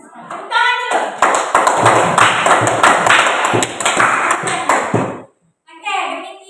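A classroom of children claps their hands together in a loud, dense burst lasting several seconds, with sharp taps and children's voices over it. A short pause follows, then a voice.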